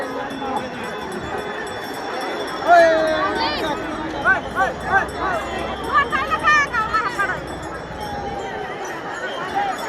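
A large crowd of pilgrims at a Marathi ringan festival, a dense murmur of many voices with occasional cries and chanting, while a nearby voice talks over it.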